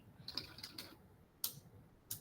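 A few soft, quiet key taps on a computer keyboard, short clicks in two small clusters with gaps between them, faint and close with no talking.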